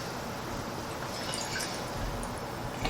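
Gin distilled in San Francisco poured into a glass, a short, steady liquid trickle close by with no talk.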